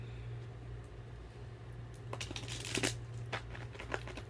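Tarot cards being shuffled by hand, faint riffling and soft flicking bursts that grow busier midway, close to the mic over a low steady hum, with no talking.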